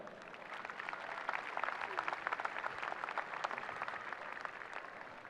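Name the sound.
audience applause at high school graduation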